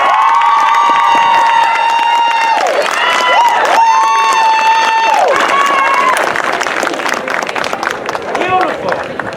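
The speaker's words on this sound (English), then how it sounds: "one big round of applause for Sydney Johnson" A crowd at the first annual Black Joy Celebration in Seaside, California, cheers and applauds loudly and steadily, with high shouted whoops and voices rising above the clapping throughout.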